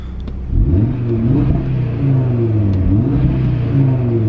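A 2019 Audi TT RS engine idles, then revs sharply several times in sport mode, limited to 4,000 rpm, the pitch climbing and falling in quick bursts, close and loud.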